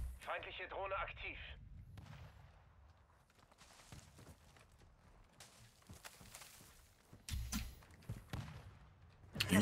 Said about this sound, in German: Irgendwo wird da geschossen